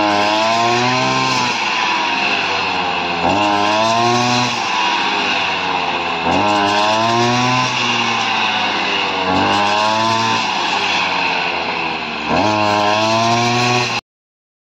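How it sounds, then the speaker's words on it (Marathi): A rice harvesting machine cuts paddy in a village field, its engine droning loud and steady with a rising rev roughly every three seconds, continuous for about fourteen seconds before stopping abruptly. "ही मित्रांनो भात कापायची मशीन बघा."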